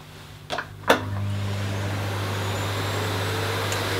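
An AEG VX8 Silence Pet Pro cylinder vacuum cleaner starts with a couple of clicks, then settles into a steady, fairly quiet motor hum and airflow whoosh that continues evenly at full power.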